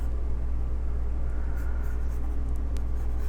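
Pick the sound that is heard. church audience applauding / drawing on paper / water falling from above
drawing on paper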